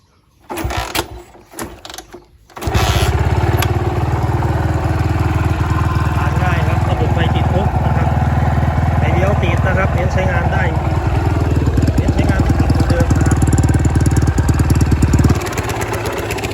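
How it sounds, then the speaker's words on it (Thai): A Honda Sonic 125 motorcycle with a cold engine and nearly empty fuel tank starts after a few brief cranking bursts, then settles into a loud, steady close-up idle that runs on for over ten seconds. "ฟังเสียงสตาร์ทง่ายนะครับ"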